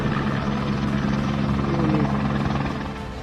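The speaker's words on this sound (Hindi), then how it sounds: "इधर बाढ़ के बीच पाकिस्तान आर्मी एविएशन कॉर्प्स के हेलीकॉप्टर लोगों को रेस्क्यू करते दिखे।" Pakistan Army Aviation Corps helicopter flying a flood rescue near Rawalpindi, its rotor a steady, loud, close thudding drone with a broad rushing roar that fills the whole stretch and eases slightly at the end.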